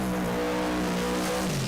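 Camaro Pro Mod drag cars at a drag strip in Las Vegas, a loud continuous engine roar with steady harmonic drone that drops in pitch near the end as the cars pull away.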